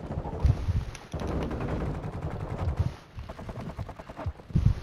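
Rapid automatic gunfire from a weapon in Call of Duty: Modern Warfare II team deathmatch, loud sustained bursts of shots separated by short pauses.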